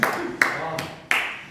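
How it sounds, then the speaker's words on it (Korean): Three separate sharp claps with a short room echo, spaced unevenly about a third of a second apart, close and fairly loud during a youth worship service, with no talk over them. "박수까지"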